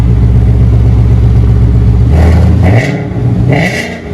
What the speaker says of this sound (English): Man, always Mustangs with the FLOWMASTER 40, they get such a distinctive sound